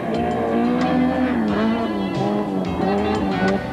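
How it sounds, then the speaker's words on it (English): Rally cars race along a dusty bush stage at the 1995 Castrol International Rally, engines roaring loud and close with shifting pitch and a steady, continuous drone. "The stillness broken only by the roar of the rally cars."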